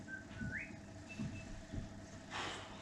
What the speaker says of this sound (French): Rien, je sifflote.